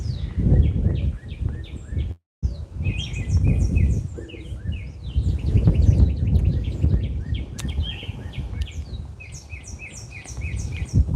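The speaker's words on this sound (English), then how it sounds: "I'm not sure if you can hear all the birds chirping." Many birds, including cardinals, chirp and tweet continuously in the background, with repeated high calls overlapping throughout amid a steady outdoor rumble.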